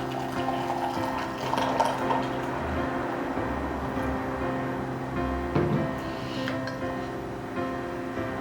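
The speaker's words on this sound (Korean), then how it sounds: "그래서 두 번째도 이렇게 뜨거운 물을 그대로 바로 부어 줍니다." Hot water pours steadily onto dried chrysanthemum flowers in a cup or pot, a continuous close gurgling splash that runs for several seconds with slight shifts in flow.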